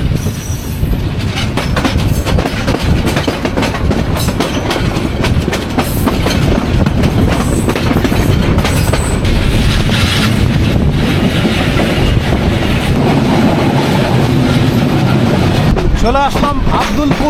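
The Burimari Express passenger train runs on rails in Bangladesh, a loud continuous rumble of wheels with rhythmic clickety-clack and brief wheel squeal toward the end, heard close from onboard.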